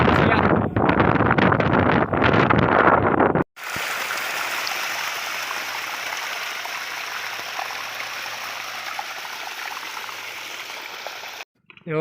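Water pours from a fountain into a vegetable garden planted with bottle gourd, okra and cluster beans. A loud, steady rushing flow runs near the microphone and breaks off briefly toward the end.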